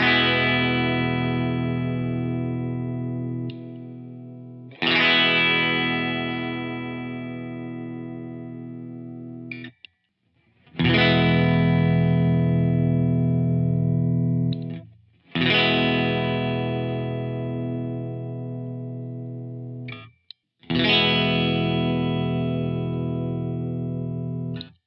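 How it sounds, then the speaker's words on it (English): Fender American Original '60s Jaguar electric guitar with its strangle switch engaged, played through fuzz: five loud, sustained distorted chords, each ringing several seconds before a brief gap, with no talking. "So the strangle switch is actually a lot of fun to use."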